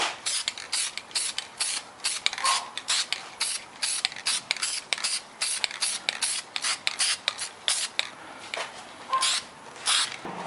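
Spray paint hisses onto the top of a handmade Halloween table centerpiece, coating it green, in a string of short, close bursts with brief gaps and no talking.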